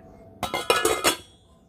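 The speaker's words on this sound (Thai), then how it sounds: "ปิดฝานะคะ" A metal lid clinks onto a pot of boiling longan drink, several quick rattling knocks in under a second, close and clear, then quiet.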